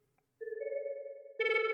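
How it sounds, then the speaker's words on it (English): A sine wave synth lead holds a clean, steady tone that starts after a short silence, then a distortion effect kicks in and thickens it abruptly with a buzzy stack of harmonics near the end. "The distortion really adds the most to the sound"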